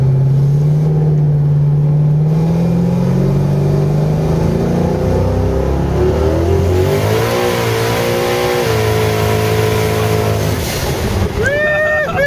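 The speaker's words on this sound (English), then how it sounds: "it just will not stop burning the tires, dude. Damn. Look at that fucking burnout" A 1500 HP fifth-generation Chevrolet Camaro holding a long street burnout, its engine droning loud and steady, then climbing and surging in pitch with tire roar throughout; onlookers talk over it.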